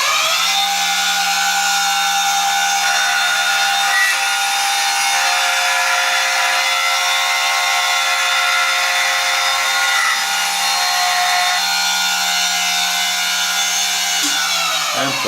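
A machine chamfers the edges of a metal workpiece clamped in a vise, using a Tripan 111 toolholder. It gives a steady, loud cutting whine with a constant hum, a short dip in the middle, and no talk.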